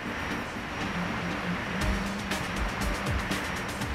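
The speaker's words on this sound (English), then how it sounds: "The tomatoes are flooded first with water to soften the blow as they open the" Water rushes in to flood tomatoes as a gate opens at a tomato processing plant, a loud continuous surging roar with heavier low thumps partway through.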